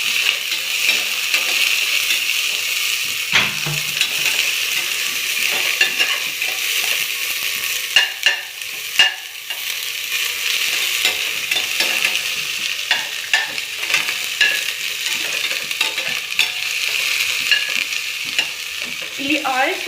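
Onion, green chilli and curry leaves frying in hot oil in a pan, a continuous bright sizzle with occasional scrapes and clinks of a stirring spoon, close and steady throughout.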